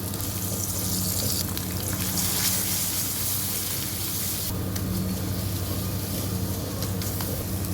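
An egg frying in hot oil with chopped onion, tomato and green chili, a steady dense sizzle that holds evenly throughout, close and loud with no speech.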